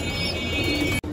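Sakhi Teddy highflyer pigeons in a loft give a soft, close coo over low background murmur, ending with a brief sharp click.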